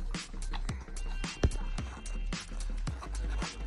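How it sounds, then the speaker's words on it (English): Horses seen along a hiking trail, with soft hoof clops and movement in the open air, heard faintly at moderate distance amid outdoor background noise. "Oh, look at those horses"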